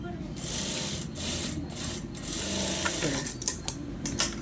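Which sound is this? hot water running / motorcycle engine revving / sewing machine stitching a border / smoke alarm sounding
sewing machine stitching a border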